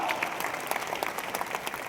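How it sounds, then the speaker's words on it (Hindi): Dense applause from a crowd at an event at Mahatma Mandir, Gandhinagar, steady clapping throughout with a faint voice mixed in. "जोरदार तालियां"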